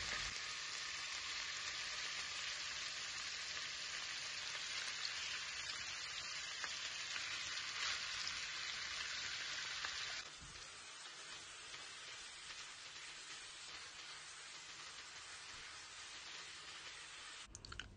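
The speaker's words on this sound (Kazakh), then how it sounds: "Туралған етімізді салып, жақсылап қуырамыз." Chopped beef fries in hot oil in a pan, giving a steady, close sizzle that runs without a break. Partway through it becomes slightly quieter and thinner, then carries on evenly to the end.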